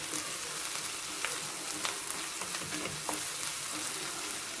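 Crushed garlic frying in coconut oil gives a soft, steady bubbling sizzle with a few light stirring clicks, fairly quiet and alone.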